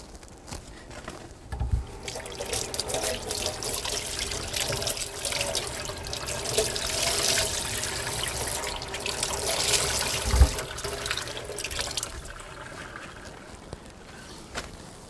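Tap water runs steadily into a sink while almonds are rinsed for homemade almond milk, a continuous splashing trickle with a few louder knocks and sloshes near the basin.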